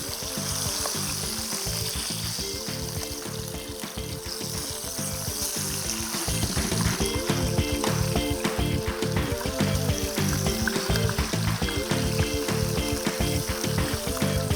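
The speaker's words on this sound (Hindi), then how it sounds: "अभी ये इस तरफ से फ्राई होगी।" Lemon curd chicken sizzling and frying in a pan after being flipped, a steady loud crackle that grows denser and more energetic partway through, with rhythmic bubbling pops and no talking.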